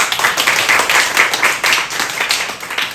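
A congregation at a church youth worship service claps together in a lively, rhythmic pattern, loud and close, filling the room with pulsing bursts from start to finish.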